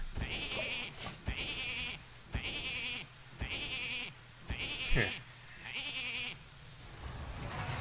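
Repeated sheep bleats in Hearthstone, about six evenly spaced calls, loud and close, over a low steady background hum.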